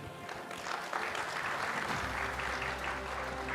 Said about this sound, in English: please give the three gentlemen a big round of applause